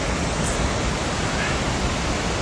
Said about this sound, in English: we're hearing the sounds, what sounds like a waterfalls